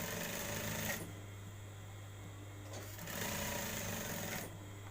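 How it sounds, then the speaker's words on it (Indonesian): A sewing machine stitches a men's shirt collar in steady, close, continuous bursts of motor whir, pausing briefly between runs, with no talking. "terus jahit juga sama. Terus jahit juga."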